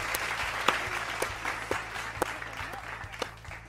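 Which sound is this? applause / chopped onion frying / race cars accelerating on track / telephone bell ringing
applause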